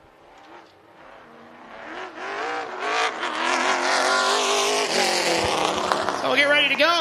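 A Midwest Tour super late model race car runs a qualifying lap on an oval track, its loud engine note rising and sweeping in pitch as it accelerates and passes, growing steadily louder and continuous throughout.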